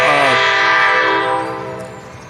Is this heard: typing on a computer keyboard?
no